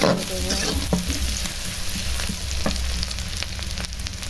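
Snake gourd sizzles with onions in a hot pan, a continuous close frying hiss broken by the scrape and clatter of stirring.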